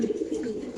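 A brief, soft coo from a large racer pigeon in a loft, close and low-pitched, lasting under a second with no voices over it.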